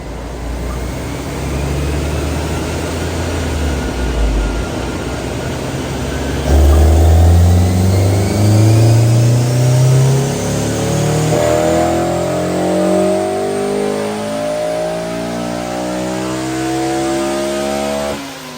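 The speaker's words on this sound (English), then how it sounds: "Let's get this thing on the dyno." A tuned Honda S2000 with a naturally aspirated package screams through repeated gear pulls on a chassis dyno, engine note climbing in rising sweeps then dropping back, loud and close with no speech.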